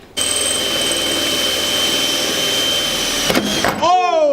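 Power drill boring holes into a car body to fit a front lip and quick-release kit on an Infiniti G35, a steady close whine running nearly four seconds before cutting off, followed by a brief voice.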